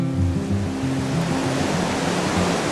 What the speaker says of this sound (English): These waves are super strong and heavy